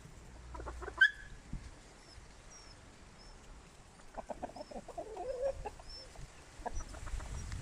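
Hens and Araucana roosters cluck in short, scattered calls, moderately close, with a faint chirping bird and light background rustle.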